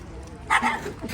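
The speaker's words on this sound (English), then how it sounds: "The dogs are barking at each other as they're passing by." Dogs passing each other and barking back and forth outdoors at a Smoky Mountains chuck wagon cook-off, a short burst of one or two near barks with a whimpering edge, over background murmur.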